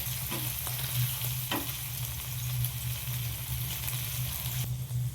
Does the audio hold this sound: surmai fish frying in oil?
yes